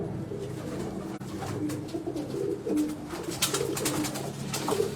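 Pigeons kept for sale coo in soft, repeated low calls, with a few other bird calls and scattered background noise around them, fairly close and steady throughout.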